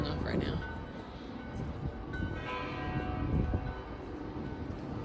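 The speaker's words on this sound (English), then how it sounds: "So many churches, you hear multiple bells going off right now." Several church bells ring at once across the old town of Bamberg, Germany, their tones layered into a steady wash under loud outdoor ambience and nearby talk.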